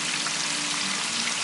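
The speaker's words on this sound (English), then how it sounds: "I've never fried chicken in this pot, so fingers crossed." Buttermilk chicken pieces fry in hot oil in a pot, giving a steady, dense crackling sizzle that stays even and close throughout the short stretch, with no voices.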